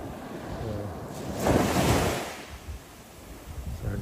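Ocean waves wash ashore at Barlings Beach on the New South Wales coast, a steady surf roar that swells into one louder breaking wave midway, with wind buffeting the microphone throughout.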